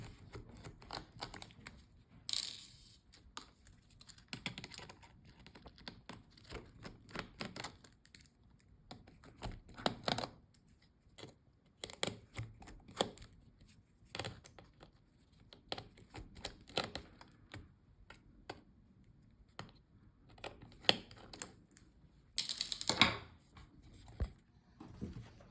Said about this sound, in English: Take out these screws here.